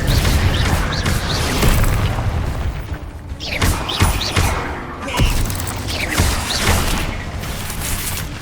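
Fiery spell blasts in a Hogwarts video game: a dense run of booms and bursting pops, several sharp impacts spaced about a second apart over a heavy, rumbling low roar, loud and close throughout.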